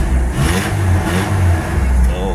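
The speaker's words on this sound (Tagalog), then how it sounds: "gumagana na siya, umaandar na, tumatakbo na ang makina" An engine runs steadily up close after a battery recharge, a loud continuous rumble with slight rev fluctuations, and a voice talks over it.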